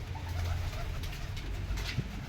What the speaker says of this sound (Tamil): ஒரு புறாக்கு தீனி வைக்க வந்தேங்க